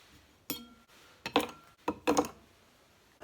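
Ice cubes dropping into a glass while a drink is mixed at home, giving a few bright, separate clinks and rattles spread over about three seconds, close and fairly quiet, with no voice.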